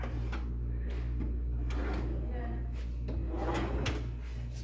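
A soft-close drawer on bottom-mount slides is pushed shut, with a few low sliding rumbles and soft thumps close by, while a voice talks over it.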